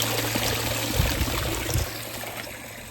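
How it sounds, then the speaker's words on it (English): Water from a hose splashes and trickles steadily over a newly built raised garden pond with stone surround, a constant wash of spray and dribbling with a low hum beneath. "Put the water butt back in, just hose everything down."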